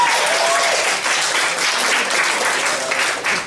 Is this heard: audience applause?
yes